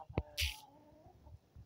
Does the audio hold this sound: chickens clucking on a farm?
yes